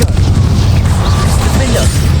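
A Confringo blasting spell goes off in Hogwarts Legacy, a loud, heavy rumbling boom that stays close and sustained for the whole stretch without fading.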